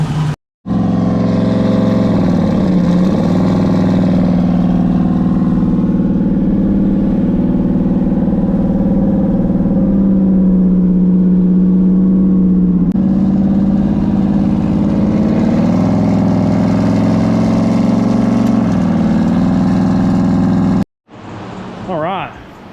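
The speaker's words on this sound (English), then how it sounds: "Injectors work great. Idling's way better." A modified street car engine runs after a fuel injector tune, idling loud and close with a steady rumble and blipping up in a few revs before cutting off near the end, where a voice speaks briefly.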